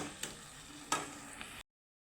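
Green chillies sizzle in hot oil with vegetables for a Bengali Tangra fish curry, a steady close fry broken by a couple of sharp stirring clatters before the sound cuts off abruptly.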